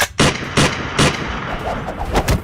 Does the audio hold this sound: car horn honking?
no